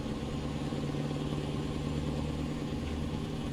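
In Euro Truck Simulator 2, a truck engine holds a deep, steady rumble with a strong low hum, close and constant. No voices are heard.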